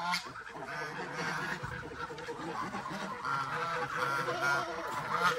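Geese and turkeys penned together with ducks give repeated honking calls through a busy, noisy barnyard, steady and moderately close, with some voices mixed in.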